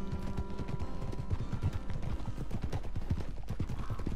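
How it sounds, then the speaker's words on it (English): Hooves of a herd of wild American paint horses in Red Dead Redemption 2 clip-clop in a dense, continuous rhythm, loud and close, with no talking over them. "first time I believe I have found like a full herd of paint horses"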